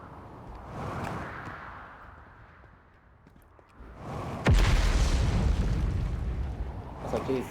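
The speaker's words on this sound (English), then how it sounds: "the sound of the jetpack's so quiet compared to the sound of the boosters" Jetpack boosters fire in a mystery indie video game, a low rumbling roar that swells, dips away and then bursts out loud and sustained after a sharp onset.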